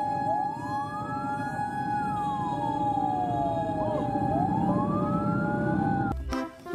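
A toy fire truck siren wails in rising and falling electronic sweeps, loud and continuous over a buzzing motor hum, then clicks off.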